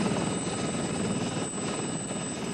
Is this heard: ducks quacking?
no